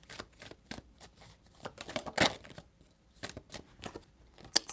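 Tarot cards being shuffled by hand in quiet surroundings, a run of soft, quick riffling and flicking taps with one sharper snap near the middle.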